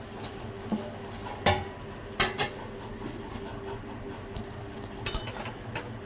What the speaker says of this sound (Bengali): একটু নাড়া দিয়ে এটাকে আমি আবারও ঢাকা দিয়ে দেবো